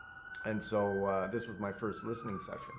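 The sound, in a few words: emergency vehicle sirens outside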